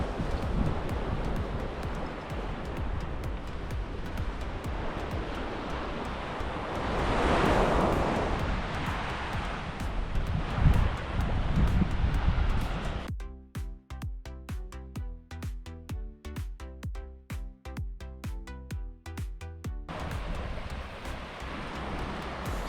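Ocean surf rolls steadily onto the beach at South Mandurah on the west coast, a continuous wash of breaking waves with wind, louder in the middle, then briefly choppy and uneven before it steadies again.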